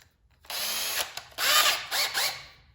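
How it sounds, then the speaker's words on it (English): A power drill whirs in several short bursts at close range, its pitch rising and dropping as a screw is driven into drywall. "you could go ahead and take your drill"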